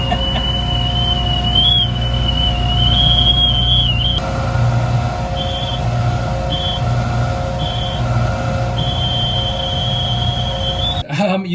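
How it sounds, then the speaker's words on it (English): A steady, high-pitched whistle comes from the 600 CFM fan of an Arbe jewellery polishing machine over a constant motor hum, continuous at first and then pulsing on and off before a clunk at the end. "that 600 CFM really is working with that really annoying whistle"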